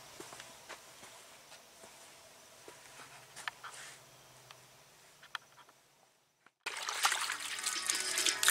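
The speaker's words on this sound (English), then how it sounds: "I'll be wiping this down with some fresh water." Fresh water wiped over the painted body of a 1974 Caprice during color-sanding and re-clear work: soft, quiet rubbing and faint drips, then a sudden louder rush of splashing water near the end.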